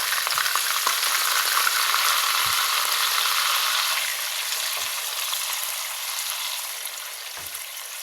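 Chicken liver sizzles steadily in melted fat, a dense, continuous frying hiss with a few soft clicks. It eases slightly after the first half and carries on alone with no voices.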